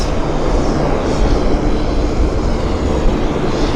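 WestJet airliner jet engines at Vancouver International Airport, a loud steady broadband roar close by, continuous throughout with no speech.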